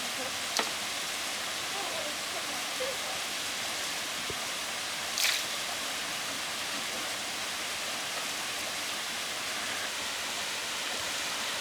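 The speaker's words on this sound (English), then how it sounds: "There's the waterfall up there" A distant waterfall with water flowing over rocks, heard from a boat in an inlet as a steady, broadband rushing hiss throughout, with a couple of faint brief knocks and no speech.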